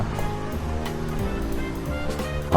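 Seaside waves rolling in near a quiet fishing village beach, a soft steady wash of surf with faint wind, moderately distant and continuous with no voices.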